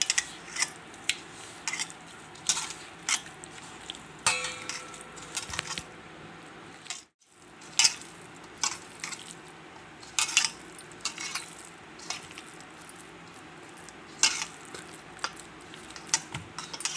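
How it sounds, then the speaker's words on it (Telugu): A thick semolina batter stirred by hand in a bowl, wet squishing and scraping strokes in an uneven rhythm, close and fairly quiet, with a brief pause partway through. "ఈ మాత్రం ఇలా ఇలా ఇలా కలుపుకుంటే సరిపోతుంది."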